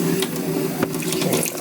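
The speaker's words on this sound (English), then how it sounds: "So just want to make sure that you rinse that thing at least 2 times" Gungo peas being rinsed in water, a steady splashing and swishing with small clicks of peas shifting, close and continuous.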